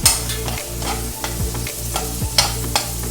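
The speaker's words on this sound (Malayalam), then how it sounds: "ഈ സമയത്ത് നമുക്ക് കുടമുളക് ചേർക്കാം, ക്യാപ്സിക്കം ചേർത്ത് കൊടുക്കാം." Sliced capsicum stir-fried with tomatoes in a pan for paneer kulcha filling, a steady close sizzle broken by repeated scraping strokes of the spatula, with no talking.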